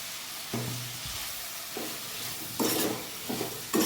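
Tomato and bitter gourd curry stirred in a pan, with a soft simmering sizzle beneath a few scraping spoon strokes that grow louder toward the end, close and with no talking.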